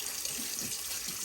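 Hot water running steadily from a tap into a sink, a continuous close hiss and splash with no voices.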